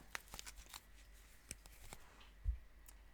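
Tarot cards are shuffled by hand, making soft, irregular papery clicks and brief rustles, faint and close, with quiet gaps between the flicks.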